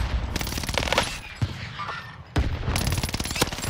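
Battle royale video game gunfire: rapid automatic bursts separated by a short lull, then a heavy volley resumes, sharp and fairly close throughout.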